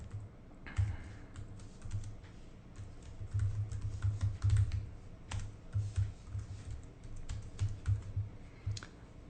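Steady typing of code on a computer keyboard: close, continuous key clicks in uneven bursts with brief pauses between words.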